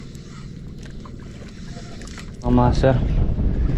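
Strong gusting wind roars at sea around a small fishing boat, a steady low buffeting rumble across the mic that swells louder near the end as someone briefly speaks.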